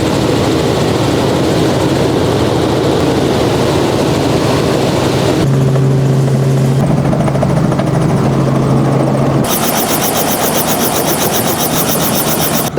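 Loud, steady rotor and engine drone fills the cabin of a helicopter in flight, with a shift in tone partway through and a sharp, brighter whine toward the end.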